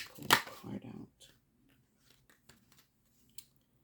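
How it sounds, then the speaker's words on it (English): A tarot card slides out of the deck with a quick crisp riffle and scrape near the start, followed by a few faint taps and rustles as the card settles. "Why don't I just pull a card out?"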